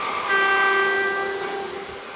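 Train in Taiwan sounding a sustained horn, a loud steady tonal blast lasting about two seconds over a low rumble.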